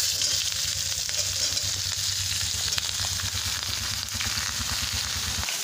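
Bottle gourd hits a hot wok already crackling with mustard seeds, giving a loud, continuous sizzle with quick popping spatters and faint stirring knocks, and no talking.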